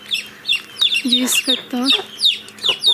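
Chicks squawking in a village yard, repeated high piercing chirps and cheeps in quick irregular bursts, close and loud, with a person briefly talking between them.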